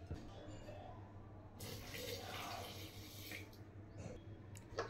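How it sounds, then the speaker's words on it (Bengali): Water is poured into a pressure cooker holding chopped banana flower, a soft splashing rush lasting a couple of seconds over a low steady kitchen hum. "এবার দিয়ে দেব একদম মাপ মতো জল।"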